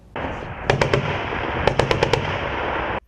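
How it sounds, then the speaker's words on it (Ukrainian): Two quick bursts of gunfire, about three shots and then five sharp cracks, ring out over a steady background roar during a Ukrainian border guard military training exercise. "Вибухи, стрілянина, артилерійська канонада, умови максимально наближені до реального бою."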